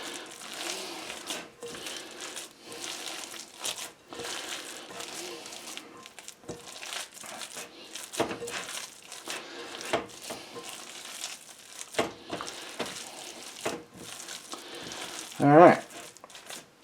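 Hands squishing and kneading a homemade black bean burger mixture in a bowl, a soft, continuous wet crinkling and squelching close by, with one louder slap near the end.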